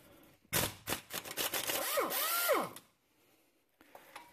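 A power tool buzzes loudly in a close, continuous burst of about two seconds while spinning the 18 mm outer tie rod nut off a 2005 Silverado, then quiet returns with faint clicks.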